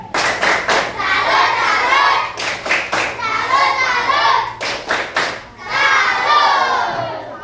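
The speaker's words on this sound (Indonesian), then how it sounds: "Tepuk salut." A classroom of children performing a clapping salute routine, with bursts of quick rhythmic hand claps between loud stretches of group chanting and children's voices, close and lively.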